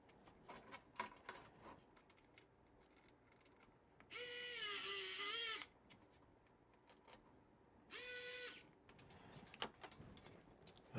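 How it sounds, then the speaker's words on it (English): Small screw being driven into a port on an RD6030 bench power supply, two distinct bursts of whirring, ratcheting turning, the second shorter, against quiet handling clicks and light taps, close up with no talk. "So we'll go ahead and screw that on."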